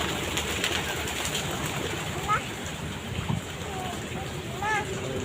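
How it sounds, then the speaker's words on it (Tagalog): Pigeons cooing softly and intermittently in a noisy outdoor setting with a steady background hiss, with people talking nearby. "Kalapati yun. Dami kalapati na."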